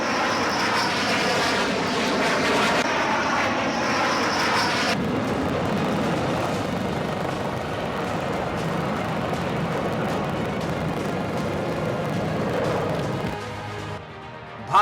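Rafale fighter jets fly overhead with a loud, broad engine roar that holds steady and shifts in tone partway through, then drops off near the end.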